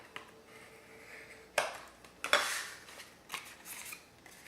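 Paper being scored on a scoring board while making a cardboard nugget box, with a few sharp scraping strokes and light clicks spaced apart against quiet background, no talking.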